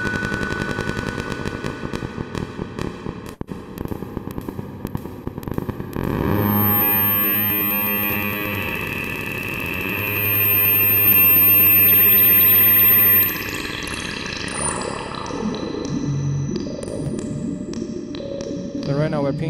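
A Meng Qi Wing Pinger synthesizer's sharp pings trigger long, swelling reverb tails that sustain and shift in tone, then fade into sparse stepped electronic tones.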